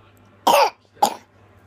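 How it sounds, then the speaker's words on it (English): Two harsh coughs, close and loud, the first longer and the second short, with near silence around them. "Nasty cough."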